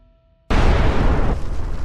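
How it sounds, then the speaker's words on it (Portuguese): A meteorite strikes the ground in a sudden, powerful explosion that bursts in after a brief quiet and rolls on as a loud, sustained roar and rumble. "No momento seguinte, uma explosão superpoderosa faz o solo tremer."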